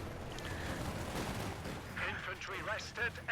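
Infantry gunfire in Company of Heroes 2, Grenadiers shooting: a dense rattle of rifle and machine-gun shots with distant battle rumble, followed by a few sharper bursts near the end.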